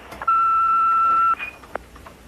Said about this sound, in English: if you leave a message at the sound of the tone